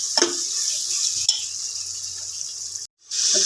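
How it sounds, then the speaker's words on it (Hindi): Water poured into a pan of cooking tomatoes, a loud sizzling hiss with stirring clatter, a brief pause, then the sizzle bursts back in, no talking. "तो मैं आपको दिखाते हैं इसमें पानी डालते हैं।"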